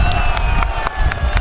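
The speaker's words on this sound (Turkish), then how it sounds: "hepinizden alkış istiyorum." A crowd in Haymana claps and cheers for a car convoy celebration, with sharp rhythmic claps over a loud, continuous outdoor crowd rumble.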